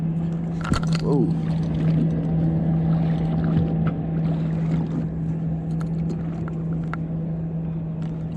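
Fishing boat outboard motor running steadily on the Detroit River during walleye fishing, a constant low engine drone with wind and water noise throughout.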